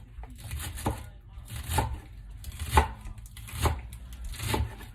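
A knife chops vegetables steadily on a cutting board, about five crisp strokes spaced roughly a second apart, close by with faint room noise between them.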